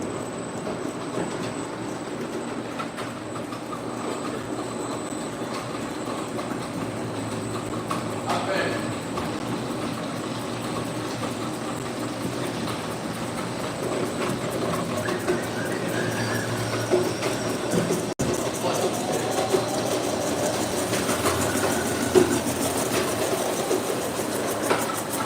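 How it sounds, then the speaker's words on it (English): A rug cleaning centrifuge spins steadily, a continuous mechanical whir and rumble lasting throughout, with voices talking over it. "I'm gonna run the centrifuge here."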